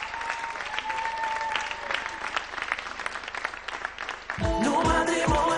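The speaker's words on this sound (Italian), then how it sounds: "facciamo un applauso, viva gli sposi!" Crowd at a Neapolitan wedding show applauds the newlyweds, a sustained burst of clapping that gives way near the end to loud music with a heavy beat.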